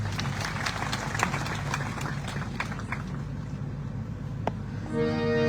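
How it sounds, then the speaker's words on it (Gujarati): An audience claps together at a Gujarati folk-literature comedy show, a brief patter of applause with some crowd noise, fading as a musical tone rises at the end. "બાપુને તાળીઓથી વધાવો."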